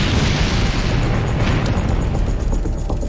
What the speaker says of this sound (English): One explosion is so powerful that it sends firemen running for their lives.